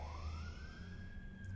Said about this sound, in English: We always have a siren come through